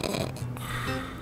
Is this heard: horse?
no